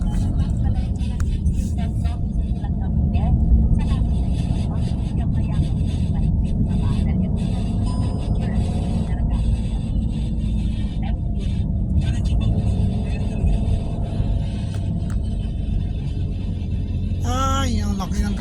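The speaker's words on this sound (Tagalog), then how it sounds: "Ay, ang laki ng truck." A large truck rumbles past on a road during a long drive, a continuous loud low roar under steady vehicle noise, with a brief squeal near the end.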